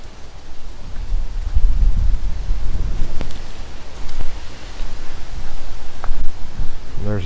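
Wind gusts through a Louisiana home garden in early spring, a loud, steady rushing roar with stronger buffeting bursts that batter the microphone.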